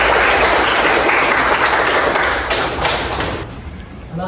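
Students in a classroom burst into loud, sustained clapping that fills the room, then thins and fades slightly toward the end, with no voices over it.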